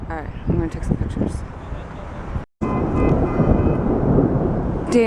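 Thunder from lightning during a tornado-producing storm rumbles deep and loud, broken by a short cutout, then continues as a sustained roar with wind noise and rain; people talk over it.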